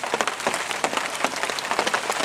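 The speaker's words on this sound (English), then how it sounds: "this rain's getting worse, with chance of thunderstorms and everything" Steady rain falls at an island fishing pond on a club water as weather moves in, a dense, continuous hiss of drops pattering on nearby surfaces with no voices.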